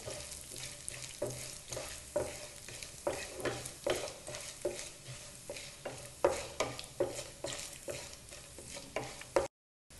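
Urad dal and mustard seeds fry in hot oil while a spatula stirs in steady rhythmic strokes, the close sizzle pulsing with each scrape and cutting out at the very end.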